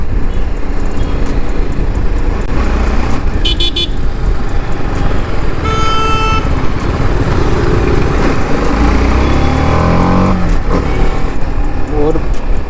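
A 2023 TVS Apache RR310 motorcycle engine revs loudly and close, its pitch climbing as the bike accelerates, with short horn toots from surrounding traffic early on.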